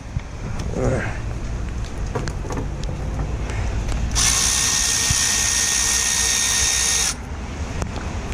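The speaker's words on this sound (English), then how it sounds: "this bloody electric ratchet has been a lifesaver since I've had it" An electric ratchet spins off a 10mm bolt on a DAF LF truck, a loud close whirring burst of about three seconds that follows quieter handling noise outdoors.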